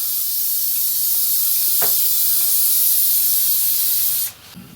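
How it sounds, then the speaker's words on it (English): A steady spray-paint-can hiss runs for several seconds up close, with a faint rattle partway through, then cuts off abruptly near the end. "And a little bit more spray."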